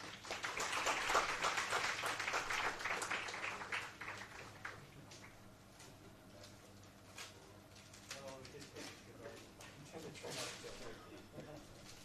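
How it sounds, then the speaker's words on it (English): Applause at an academic toxicology conference at Nirma University in Ahmedabad, a burst of audience clapping that swells early, then thins into scattered claps under a room murmur. "Can we have a big round of applause?"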